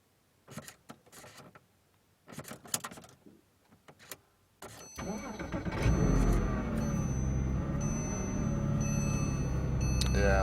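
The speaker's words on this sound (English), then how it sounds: "I'm going to go ahead and start the car here" A car engine cranks and catches, then settles into a steady, close idle that hums on after a few quiet clicks and knocks inside the car.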